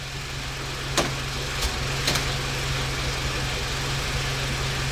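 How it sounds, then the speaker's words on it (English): A WW2-era jeep engine idles steadily with a low, even hum, while a few faint clicks or pops stand out above the drone and no one speaks. "Allow the engine to idle."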